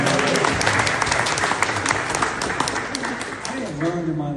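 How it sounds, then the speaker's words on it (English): Audience applause at a Houston Regional Gastroenterology Institute event with a senator, dense steady clapping filling the room throughout, easing slightly near the end as a voice begins speaking over it. "can you give a round of applause for Lauren's up there?"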